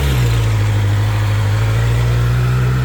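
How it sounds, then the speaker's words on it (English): A Honda CB650 motorcycle exhaust idles close by, a steady deep droning rumble with a smooth, even pulse throughout and no talking. "Here's the exhaust. So let's listen to CB 650."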